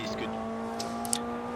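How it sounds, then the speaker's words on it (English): A front-wheel-drive rally car in the Richard Burns Rally game on the Komárov stage drones steadily at high revs, with short gravelly bursts over the engine tone. "it's a lot less scary to drive this stage with the front wheel drive car"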